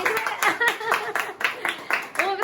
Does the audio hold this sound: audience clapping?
yes